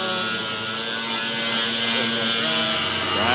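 A grinder works metal during restoration of a rusty 1959 Ford Galaxie, giving a loud, close, continuous harsh whine and rasp that holds steady throughout.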